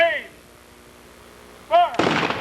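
A ceremonial rifle volley at a USS Utah memorial plaque dedication at the Nimitz Museum in Fredericksburg, Texas, fires as a single loud crack right after a shouted command, followed by a short echoing tail.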